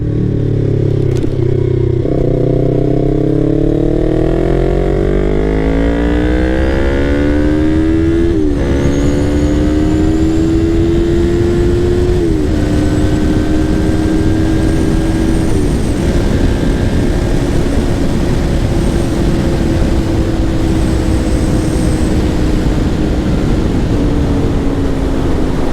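A modified Yamaha MT-03 motorcycle, ridden along a windy back road, revs loudly and steadily up close, its engine pitch climbing through the gears with short dips at each shift and continuous wind roar underneath.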